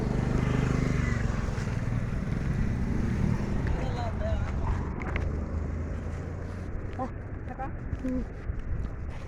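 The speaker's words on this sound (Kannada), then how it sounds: "ಬೈಕ್ ಜಾಸ್ತಿ ಟ್ರಾಫಿಕ್." Motorbikes in busy street traffic make a steady engine roar, with wind buffeting the microphone and a few faint horn-like tones.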